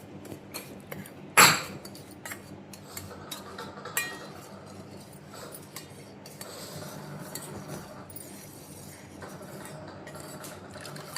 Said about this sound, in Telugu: సో ఇప్పుడు మిక్స్ చేద్దాం రండి.